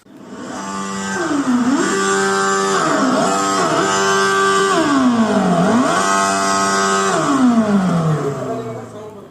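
A synthetic engine roar from a Komaki Ranger electric bike's built-in speakers, with strong harmonic tones rising and falling in pitch like revving up and easing off several times, loud and close.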